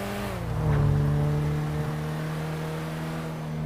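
A Mahindra XUV 500 2019 SUV engine driving in GTA 5, a steady low engine drone with clear harmonic tones that swells briefly near the start and then holds an even, continuous hum, close and alone.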